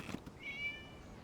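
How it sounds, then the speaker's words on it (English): A cat meows in the Genshin Impact video game, a single drawn-out meow that rises and holds briefly, faint and fairly distant against a quiet background. "It was just a cat."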